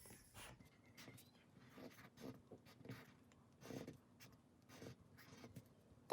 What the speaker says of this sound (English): So you're gonna write